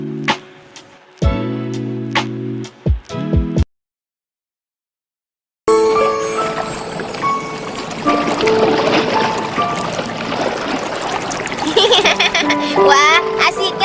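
Sea waves splash and wash in continuously after a gap of silence, following some earlier tonal music-like sounds, in an animated lesson scene at the beach.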